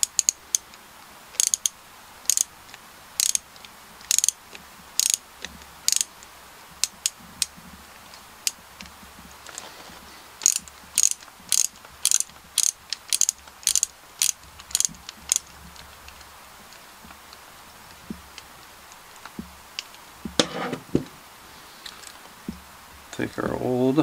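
Small Phillips screw backed out of an old plastic servo horn on a Redcat Everest 10 RC crawler linkage, giving a long run of sharp, close ratcheting clicks in quick bursts with pauses, and a person talking at points.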